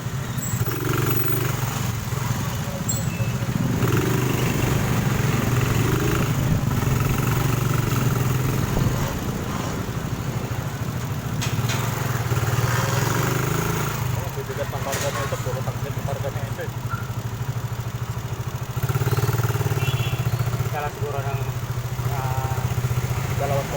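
A motorcycle engine runs steadily at close range, a low rumbling drone throughout, with people talking over it.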